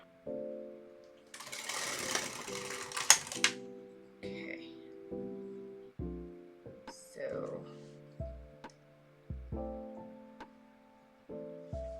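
An LK150 flat panel knitting machine carriage is pushed back and forth in repeated short runs, each a quiet mechanical whir and clack, with a brief burst of rattling near the start and a person talking softly between passes.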